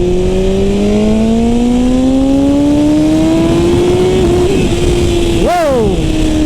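A 2021 BMW S1000RR motorcycle revving up through the gears, a loud close engine whine that climbs in pitch, then jerks and stumbles near the end.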